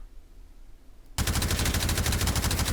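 Rifle fire with a high rate of fire in the VR shooter Malyuk, starting abruptly after quiet and running as a loud, rapid, steady automatic stream of shots.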